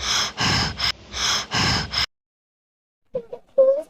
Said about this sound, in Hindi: भैया आप इतना हाँफ क्यों रहे हो?